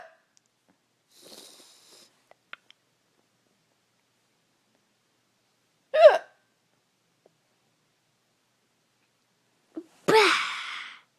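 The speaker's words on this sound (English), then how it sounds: "See if you'll get rid of Mom's hiccups?" Woman's hiccups indoors, two abrupt isolated gulping catches several seconds apart, fairly close, with faint rustling in between and no talking.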